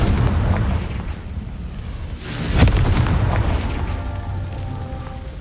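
Confringo fire blast spell exploding in Hogwarts Legacy, a rumbling game explosion with a sharp boom near the middle followed by a decaying roar, loud and up close.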